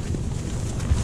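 Strong Storm Erik wind buffets a tarp shelter pitched low on the ground, a steady, close rumbling roar with no pause across the brief moment.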